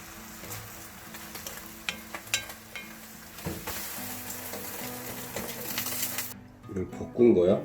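Food stir-fried in a pan sizzles steadily with stirring scrapes at a moderate level, and voices are heard near the end.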